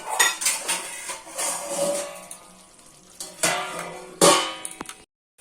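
A metal lid is set back on a cooking pot of prawn and brinjal after chopped tomato goes in, producing several close, bright clanks and clinks with quieter rattling between them, then a sudden stop.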